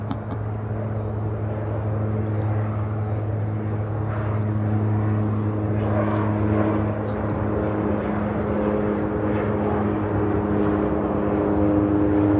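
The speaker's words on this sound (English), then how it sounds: "Grand Caravan taking off to Quincy, Southern Airways Express 488." A Southern Airways Express Cessna Grand Caravan turboprop takes off from Chicago O'Hare, its propeller drone holding strong steady tones under a continuous engine roar, fairly close and loud throughout.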